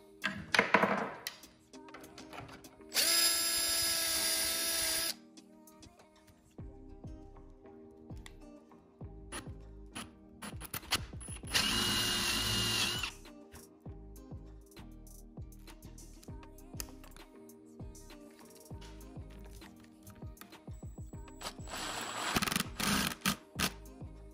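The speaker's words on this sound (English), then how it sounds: "using a self-centering bit to get me the pilot hole" A power drill fitted with a self-centering bit bores a pilot hole in wood for a crosscut sled, sounding as three separate loud bursts of drilling, each a few seconds long, with quieter workshop clatter between them.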